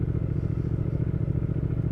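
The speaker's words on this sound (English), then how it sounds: "this is the Triumph Speed Twin" A 2019 Triumph Speed Twin with its 1200 Bonneville parallel-twin engine idles nearby, a steady, low, throbbing rumble with an even pulse throughout.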